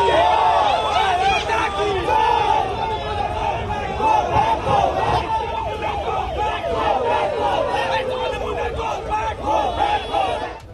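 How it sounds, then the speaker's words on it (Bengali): A large crowd of protesters with saffron flags and tilak on their foreheads chants "go back" slogans at Sukanta Majumdar, a loud, continuous rhythmic roar of many voices shouting together, sustained throughout. "গেরুয়া পতাকা হাতে কপালে তিলক কেটে গো ব্যাক স্লোগান"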